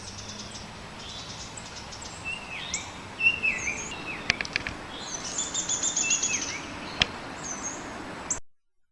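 Several different birds sing and call outdoors in Virginia in early March, with high chirps, trills and sharp notes coming in bursts over a low, steady background hiss, some calls near and clear, others fainter.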